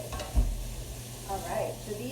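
Vegetarian fajitas stirred in a hot pan, a steady close sizzle of frying vegetables with a brief scrape of the spoon against the pan.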